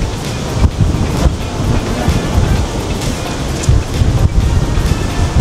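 Loud, blustery wind roars and buffets steadily at a beach, mixed with the wash of surf and occasional gusty thumps, with no voices.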